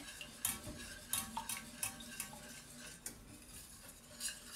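Speculoos paste being stirred into cream in a pan for panna cotta, with quiet repeated clinks and scrapes of a utensil against the pan in an irregular rhythm, close and faint.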